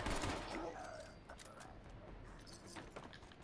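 Weapon fire in the video game Fallout 76, a few faint, quick shots over a murky game background with speech nearby.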